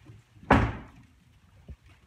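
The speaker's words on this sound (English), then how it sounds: "Close the door" A C6 Corvette door shuts with one solid, close thunk, followed about a second later by a fainter second knock.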